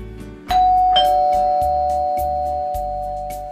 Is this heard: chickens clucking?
no